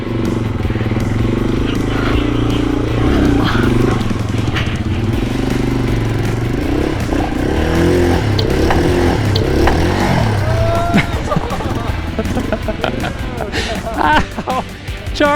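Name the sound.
Yamaha TW200 motorcycle engine riding hard enduro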